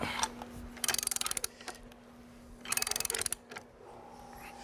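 A bolt is turned onto a bracket on a pressure-treated deck frame with a ratchet, giving two bursts of quick clicking ratchet strokes separated by a pause, close and moderately loud.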